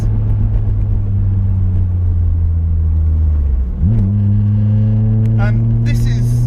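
Racing car fitted with a hybrid short shifter, a loud steady engine drone that dips and surges with a gear change, then the revs climb again, while someone talks over it.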